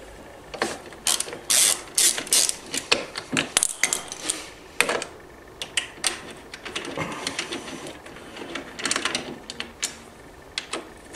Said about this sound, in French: d'un cliquet équipé d'un embout Allen de 5, vous desserrez les 3 vis de fixation